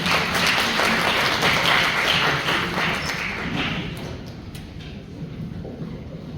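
A seminar audience welcomes a professor with loud, dense applause that fades gradually toward the end, many hands clapping together.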